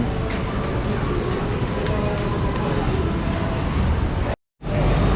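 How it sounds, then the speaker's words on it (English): Loud, continuous rumble of a Medellín metro tram at a station platform with rattling and clatter, people talking amid the noise, cutting briefly to silence near the end. "And the people wait on these platforms and get on. See everyone getting on the train."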